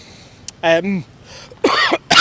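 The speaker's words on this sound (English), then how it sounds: "I'm going to cough again" A few short coughs and throat-clearing sounds, close and fairly loud, separated by brief pauses, with outdoor wind noise faintly behind them.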